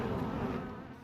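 A bee swarm living inside the walls of a home fills the air with a dense, steady buzzing, close and continuous, with no voices over it.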